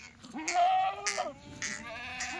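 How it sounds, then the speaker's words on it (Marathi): Kathiawadi goats, including a doe that has just given birth, bleat in several close, loud calls, with pauses between them, on a wholesale goat farm. "हे बघा जनलेली बघा काय मित्रांनो जनलेली शेळी"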